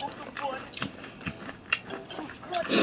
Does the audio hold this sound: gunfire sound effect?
no